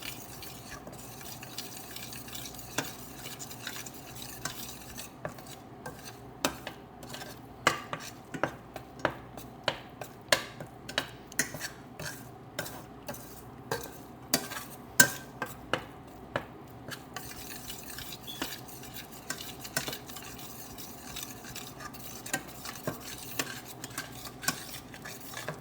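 A utensil stirs and scrapes a thick sukhdi mixture in a pan, making a close series of irregular metallic clicks and scrapes that grow denser in the middle stretch, with a quiet background underneath and no talking.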